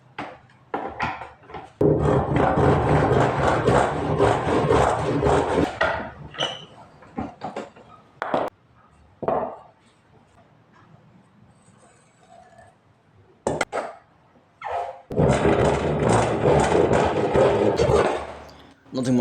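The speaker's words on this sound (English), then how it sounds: "cut it out with a handsaw" A handsaw cuts wood stock for a hand-made kitchen fork, producing two long stretches of steady rasping strokes, close and loud, with a quieter middle section of scattered knocks and handling noises.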